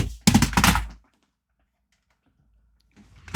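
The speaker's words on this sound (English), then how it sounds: "That's just me dropping shit." Objects clatter as they are dropped while an Xbox is being set up: a loud cluster of knocks and thuds at the start, then near silence, then a softer rattle at the end, with no talk.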